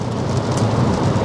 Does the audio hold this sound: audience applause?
no